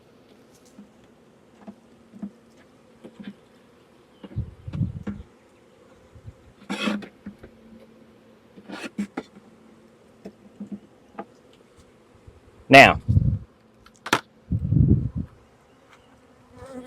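Intermittent buzzing of a honeybee swarm being shaken into a hive comes in short bursts with quiet gaps, close by, along with a few dull thumps and knocks.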